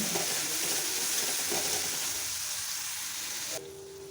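Ginger, garlic, coriander and cumin paste frying in oil, a steady moderate sizzle with occasional stirring scrapes that drops quieter near the end.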